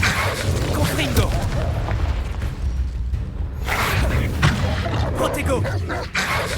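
Confringo fire-blast spell in the Hogwarts Legacy video game, heavy booming explosions and whooshing impacts layered over combat noise, loud and close, with a voice speaking intermittently.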